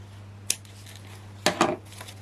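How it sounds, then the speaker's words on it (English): Scissors snipping foam from a roll, a few sharp close cuts: one isolated snip, then a quick pair of crisp cuts, with faint handling noise between. "So I'm using the foam on a roll, so I'm going to start just by going round the outside. Just grab some scissors."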